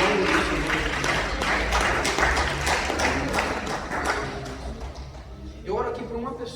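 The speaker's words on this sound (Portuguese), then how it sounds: "As palmas que louvam o nome do Senhor." A church congregation claps in praise during a service, a dense, steady patter of many hands filling the room while a voice speaks over it. The clapping thins toward the end.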